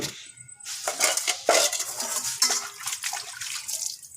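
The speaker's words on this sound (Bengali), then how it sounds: "এই কড়াইটা একটু পরে মাজবো বন্ধুরা, তাহলে পাশে রেখে দিলাম।" Kitchen dishes and a metal kadai clatter and clink as they are handled and set aside, with running water in the background, near and moderately loud over several seconds.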